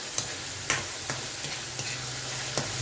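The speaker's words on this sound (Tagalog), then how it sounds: "Prito-prito ko lang muna siya guys." Bangus (milkfish) frying in a pan with a steady, close sizzle and crackle, broken by a few sharp pops and scrapes of a utensil stirring, with no talk.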